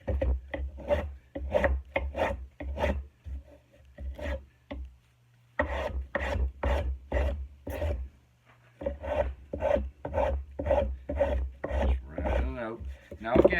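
Rasp or file shaping a wooden axe handle clamped in a vise, giving steady rhythmic rough scraping strokes close by, with a short pause midway before the strokes resume.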